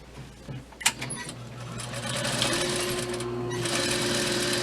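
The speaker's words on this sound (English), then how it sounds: "we're going to start sewing here and go all the way across to this other side" A sewing machine stitches a dress seam, a few short taps and a clunk at first, then a steady, loud continuous whirring hum that runs close up to the end.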